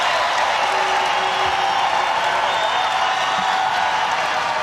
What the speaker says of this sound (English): This crowd has come to life here in Raleigh